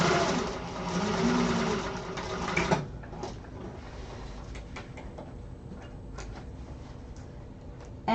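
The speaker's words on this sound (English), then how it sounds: "I'm going to go in with that second line of stitching, just because I'm using such a thick vinyl" A sewing machine runs fast through thick vinyl for a second line of stitching, whirring steadily for nearly three seconds before slowing to scattered mechanical ticks and clicks, then restarting briefly at the end.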